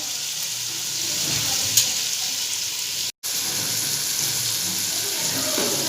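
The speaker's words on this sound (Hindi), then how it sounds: "अब थोड़ा सा पानी लगाएंगे इसको, ताकि ये मिर्ची जो है ये इनका कच्चापन ख़त्म हो जाए मसालों का" Water splashed into a pan of frying mixed vegetable curry masala with peas, cauliflower and carrots gives a steady, close hiss and sizzle that runs throughout, broken by one very brief dropout, with no talking.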